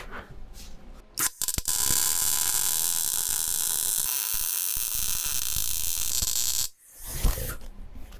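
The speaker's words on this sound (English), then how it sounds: "Turn on the welder." Welder running in a home garage during an engine and transmission install, a steady loud buzzing hum holding for about five seconds after a brief start-up, then cutting off abruptly.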